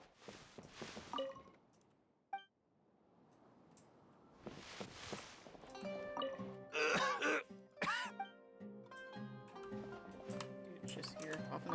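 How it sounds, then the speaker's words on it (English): Character in the Genshin Impact game coughing and clearing the throat in a few rough bursts early on, followed by quiet game music and soft effects. "Just here, coughing up a lung."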